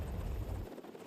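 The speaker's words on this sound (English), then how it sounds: "These helicopters are made to take off and fly in winds that can exceed 100 miles per hour." Military rescue helicopter in flight, a steady heavy rotor-and-engine rumble with thick low thumping for the first half, then thinning slightly as it carries on alone without voices.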